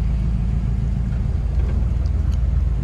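A 1973 Chevrolet Cheyenne C10 pickup truck engine running, a dense low rumble that stays steady and close throughout, with no voices.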